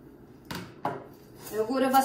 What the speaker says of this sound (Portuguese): Agora vai-se misturar tudo muito bem.